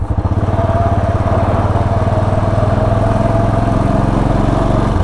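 A Royal Enfield Bullet 500 motorcycle engine runs steadily and close, with a constant rumbling throb and a rapid mechanical clatter from a faulty chain riding on top, no talking.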